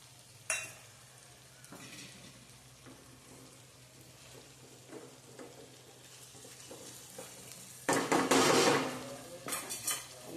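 Tomatoes go into a pan of spiced oil for a Gujarati kantola (spiny gourd) curry: faint sizzling and light utensil clinks, then a loud burst of hissing and clattering as they hit the pan.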